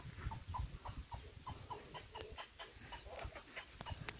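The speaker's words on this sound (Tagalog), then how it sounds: "Ang ingay naman tong manok na to." Backyard chickens cluck repeatedly in quick rhythmic bursts, fairly faint and somewhat distant, with no talking.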